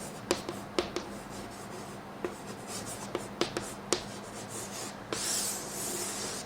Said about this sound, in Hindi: लिख देता हूँ मैं यहाँ पे।